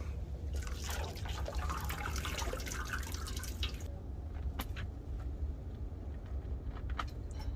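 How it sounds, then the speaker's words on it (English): Water drips and trickles steadily as a chicken is dipped and soaked in hot water for defeathering, a close, continuous splashing that gives way to scattered drips. "I'm gonna dip the chicken in like this"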